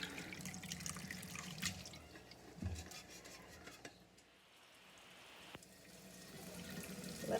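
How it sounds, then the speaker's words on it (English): Boiled elderberries are strained through cheesecloth over a bowl. The liquid trickles and splashes steadily, with a soft clink partway through, a brief lull and then more pouring, all at a moderate, close level. "Now I'm going to strain the elderberries through a cheesecloth"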